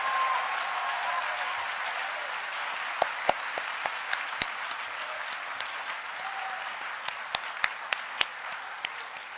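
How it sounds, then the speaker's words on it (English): An auditorium audience applauds storytellers at a community dialogue event, a steady wash of many hands at moderate distance, with a handful of sharper, closer individual claps standing out through the middle. "let's just give one last huge round of applause for everybody who's told their stories today"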